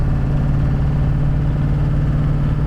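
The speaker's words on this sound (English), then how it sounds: "So here's, normal acceleration. Truck shifts at 2400 RPM." Diesel truck under normal, calm acceleration, shifting at around 2400 RPM, gives a steady, low mid-range engine drone throughout, with no screaming revs and no talk over it.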